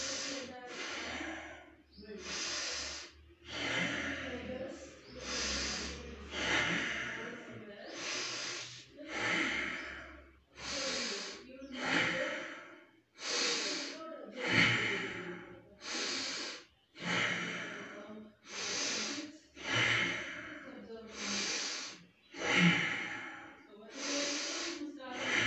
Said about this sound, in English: As soon as I lie down in prone posture, it's currently 93, and start deep breathing.